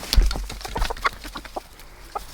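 Chickens cluck and chirp in short, scattered calls close by, with soft rustling and light background noise between them.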